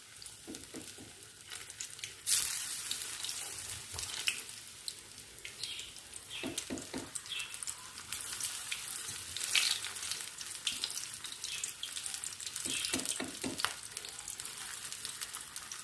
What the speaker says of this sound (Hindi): फिर इस मीडियम आंच पे मैं इसको फ्राई करके निकालती जा रही हूँ।